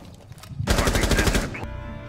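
A loud, close burst of rapid automatic gunfire in Rainbow Six Siege lasts about a second, with rhythmic individual shots, then fades into echo and softer background noise.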